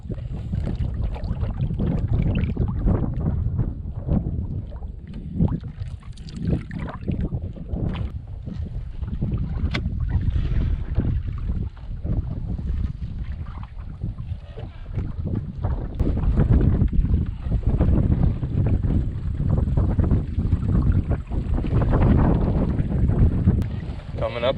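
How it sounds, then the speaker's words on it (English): Strong wind buffets the microphone during a solo canoe trip on a river, a loud, continuous rumbling roar that rises and falls in gusts throughout. "the wind has picked up quite a bit"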